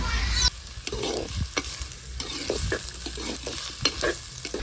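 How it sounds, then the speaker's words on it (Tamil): Onions sizzle in hot oil while a spoon stirs and scrapes the pan in irregular strokes, close up, no talking. "நல்லா பொன்னிறமா வெங்காயம் வதங்கணும்."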